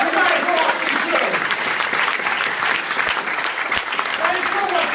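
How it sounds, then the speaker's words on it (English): Audience at a live author event in a London bookshop breaks into loud, sustained applause, a dense wash of clapping lasting throughout with scattered cheers from the crowd. "Big round of applause!"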